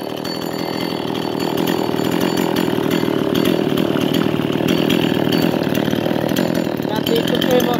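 Japanese-made Tanaka 345 chainsaw engine runs loud and close with a steady buzzing drone that rises slightly after the first second, with no other sounds.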